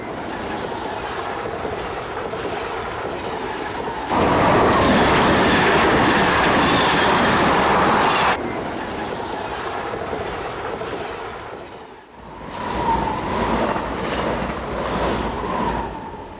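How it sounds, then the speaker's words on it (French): An RER commuter train fitted with composite brake shoes roars past close by, a loud sustained rumble peaking mid-pass with rolling wheel noise, then fading into a lighter rattling tail. "on a eu un RER équipé de semelles de frein composite et on a un niveau moyen au passage du train qui est de 81 décibels"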